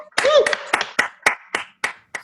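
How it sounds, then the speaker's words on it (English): Applause breaks out for a singer at a talent show, then thins out into around eight separate, evenly spaced claps, each sharp and close. Near the start, a brief vocal sound overlaps the clapping. "But let's all welcome and give a round of applause for Rosalisa."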